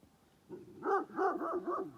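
A large Kangal shepherd dog barks four or five times in quick succession, deep and resonant, heard from some distance across a stream with no other sounds.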